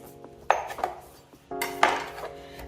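A knife cuts through a vegetable on a board with crunchy, scraping strokes: two main bursts of cutting, each trailing off as the blade sinks through, heard close and alone.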